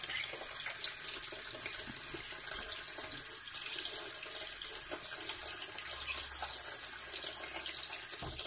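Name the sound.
water running from a tap as a parrot bathes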